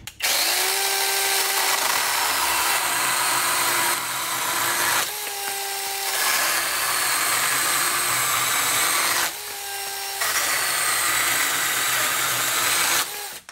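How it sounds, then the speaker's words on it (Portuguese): A brushless 20V Wosai cordless mini chainsaw whines steadily as it cuts through dry pine, pausing briefly between several cuts, loud and close with no voices. "é um desafio tremendo para uma mini motosserra pequena dessa"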